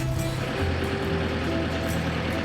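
A narrowboat's diesel engine runs steadily after the boat is back in the water, a continuous low throbbing hum with a constant drone and no pauses across the short stretch.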